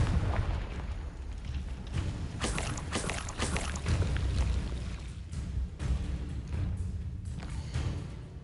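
Spell blasts from Confringo and other combat spells in the Hogwarts Legacy video game, a dense run of loud booming explosive bursts and crackling impacts filling the whole stretch, with no talk heard.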